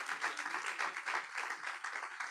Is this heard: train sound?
no